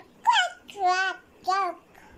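A young child makes three short, nasal, quacking-like vocal bursts, imitating a duck, close to the microphone with brief gaps between them.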